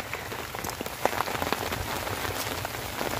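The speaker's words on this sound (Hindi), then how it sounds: "बड़ी तेज बारिश शुरू हो गई है" Heavy rain pours steadily onto surfaces in a village at the animal fodder shed, a dense, continuous wash of drops with occasional louder splatters close by, no voices.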